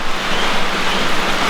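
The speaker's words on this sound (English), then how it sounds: "It's like pouring outside" Heavy rain pours outside in a loud, dense, unbroken roar, heard alone without voices.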